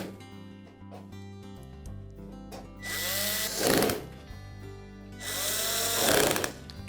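A power drill drives screws while fastening the electronic control board of a Frigidaire range, two whirring bursts that rise and fall in speed, about a second each, over steady background music.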